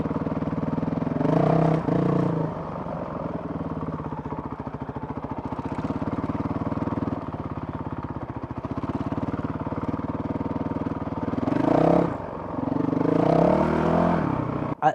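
Honda CRF 450 RL motorcycle engine idling with a steady close rumble, rising into sharp throttle blips twice, a quick rev near the start and another pair of revs toward the end.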